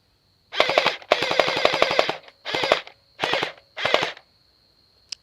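A SCAR 168 gel blaster rifle fires in full-auto bursts: one short burst, then a long one, then three more short rapid strings, each loud and close with quick mechanical rattling and a steady motor whine between bursts.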